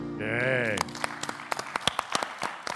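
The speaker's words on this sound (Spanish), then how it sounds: "Un aplauso." At a conversation event, a sustained voiced tone gives way to scattered applause from the audience: a sparse run of distinct, sharp claps, fairly close, picking up irregularly after the opening sound.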